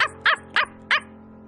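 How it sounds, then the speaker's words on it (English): A small cartoon puppy lets out four loud, sharp barks in quick succession, each short and bright, alone with no talk. "he has such a big bark for a little tiny puppy"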